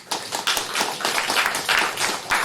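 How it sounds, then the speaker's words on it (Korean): A church congregation claps steadily together during a Sunday service, a dense, sustained round of applause that carries on throughout. "우리 감사의 마음이 들어서 박수 한번 하겠습니다."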